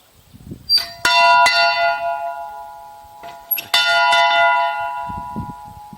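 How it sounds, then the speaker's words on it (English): A large bell rings twice, each strike a loud clang followed by a long ringing tone that slowly fades, with faint voices before and after. "It's a great sounding bell."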